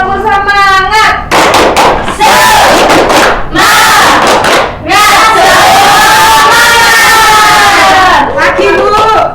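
Elementary-school pupils in a microteaching classroom perform the 'tepuk semangat' spirit clapping chant, loud unison voices shouting rhythmic chant lines with claps mixed in, nearly continuous for about nine seconds with a few short breaks.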